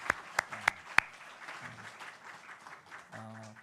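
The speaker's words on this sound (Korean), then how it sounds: "박수로 환영하겠습니다" A church congregation at a Sunday worship service greets a newcomer with four sharp, separate hand claps in quick succession, followed by a faint, low murmur of the room.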